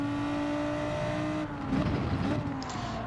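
Race car engines in the driving game Gran Turismo 7 roar loudly, one engine holding a steady high drone before another car sweeps past with a rising rev and brief tire noise.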